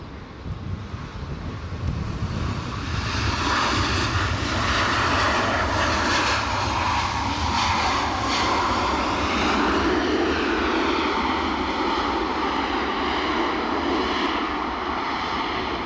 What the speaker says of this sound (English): Hainan are due out on their return to Beijing with their A330.